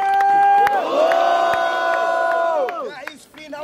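A loud crowd cheers and shouts for the first round of a freestyle rap battle final at Batalha do Coliseu in Brazil, with a sustained roar and piercing horn-like tones that fade near the end.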